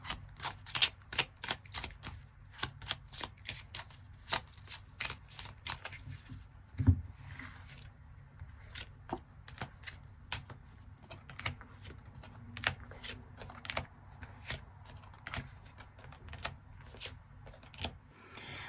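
Tarot cards are shuffled and drawn in a long run of quick, crisp flicks and slaps, close and fairly loud, with a heavier thump partway through and no talk.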